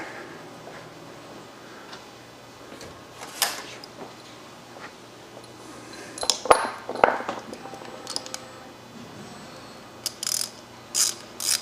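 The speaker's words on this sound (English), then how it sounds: "So hopefully I can actually start these bolts and grab a thread and then use these bolts to compress the springs" Bolts threaded in and tightened to compress massive die springs in a machine-shop EDM setup, heard as irregular ratcheting clicks and sharp metallic clinks in bursts, close by, with no talking.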